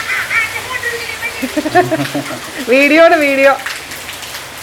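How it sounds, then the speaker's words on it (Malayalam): Rain falling gives a steady hiss and patter under close speech. "മഴ"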